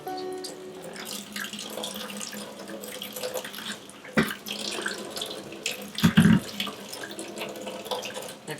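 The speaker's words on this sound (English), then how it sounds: "As we're filling her pool, the water pressure is coming down." Water runs steadily from a hose or tap as a pool is filled, a continuous rushing splash with a few brief louder gushes and knocks partway through.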